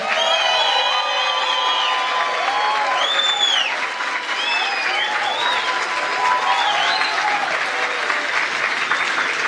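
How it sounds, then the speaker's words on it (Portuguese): A large crowd at an official ceremony with Brazilian ministers applauds continuously, with loud shouts and whistling cries rising above the steady clapping throughout. "Dá para ver que tem os gritos, né? Ficam aplausos mais intensos."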